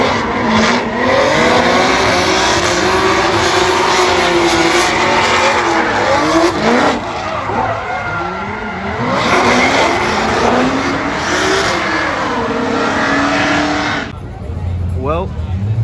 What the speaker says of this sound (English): Amanda Sorensen spun, and then whoever is behind her, I can't tell, but that was a nice little impact